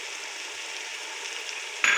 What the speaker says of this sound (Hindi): इनको थोड़ी सी करेंगे भुनाई।